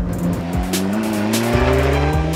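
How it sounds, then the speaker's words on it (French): An Alfa Romeo 4C sports car drives hard and loudly, its engine note climbing through the revs with quick shifts and a hint of tyre noise, close and constant. "l'Alfa 4C, elle ne causera pas de somnolence au volant. D'abord parce qu'elle est bruyante"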